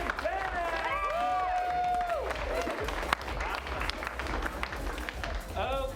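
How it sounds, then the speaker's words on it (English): An improv comedy show audience bursts into steady applause with some cheering, filling several seconds while voices carry on over the clapping. "Give a big round of applause to"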